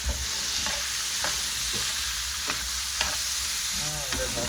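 Marinade with scotch bonnet peppers sizzles and fries in a pan, a constant loud hiss broken by repeated scraping stirs, with no talking.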